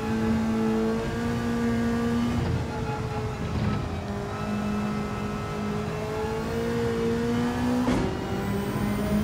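A race car engine in Gran Turismo 7 accelerating under full power, loud and steady with a rising harmonic whine that dips and climbs again with gear shifts, and no talking.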